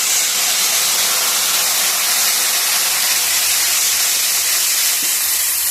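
Panch phoron five-spice mix with a little sugar dropped into hot oil for a cabbage curry, giving a steady, loud, unbroken sizzling hiss that fills the whole stretch without any talk.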